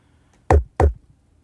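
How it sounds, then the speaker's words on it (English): Two punchy knock-like drum hits sampled from children's toys, boosted in the low end with EQ and compressed, land close together in quick succession on an Akai MPC Live, loud and dry against silence. "Brought some low end with some EQ. Turned that up. And then I put a compressor on it, so I ended up with this, which is knocking a lot more"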